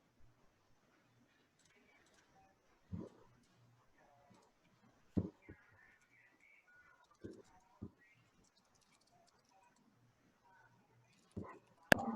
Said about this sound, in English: She's still barking.